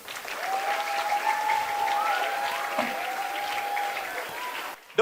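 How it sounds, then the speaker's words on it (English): An audience at a talk session breaks into a sustained round of applause, steady and dense throughout, ending with a brief louder burst near the close. "Then give a round of applause for him."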